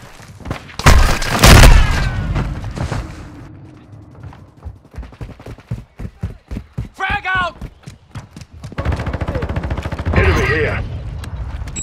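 Enemy gunfire in Call of Duty: Modern Warfare II, with sharp shots, clattering bursts and booms mixed with mechanical game sounds and radio-style voice callouts.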